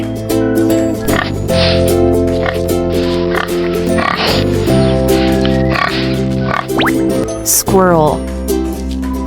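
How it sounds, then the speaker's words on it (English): A pig oinks and grunts repeatedly in short, snuffling bursts close up, with wet snorts over a constant background music bed. "Pig."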